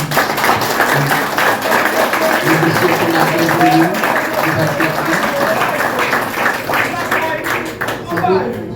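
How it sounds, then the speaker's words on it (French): Audience applause at an administrator's installation ceremony, continuous clapping for the whole stretch with voices and tonal sounds running over it. "avec un chaud applaudissement"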